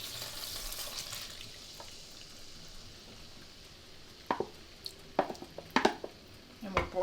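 Steak marinade hits a hot pan with a soft, steady sizzle, while utensils clink and scrape against the pan in short taps toward the end.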